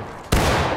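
A musket volley erupts in War of Rights, a Civil War line battle game, as a sudden massed crack of many shots fired together, followed by a loud rolling, crackling roar that sustains to the end.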